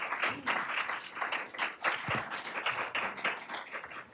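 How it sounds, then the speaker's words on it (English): A small audience gives a round of applause at a panel discussion, with individual claps distinct and uneven, fairly quiet, and rising and falling over a few seconds. "Let's give them a round of applause."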